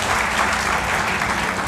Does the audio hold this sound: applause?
yes